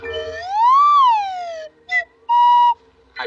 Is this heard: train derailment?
no